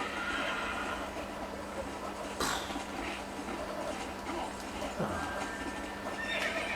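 Horse neighing in the video game Red Dead Redemption at night, a faint whinny rising above a steady ambient bed, with hoof clatter and outdoor game noise around it.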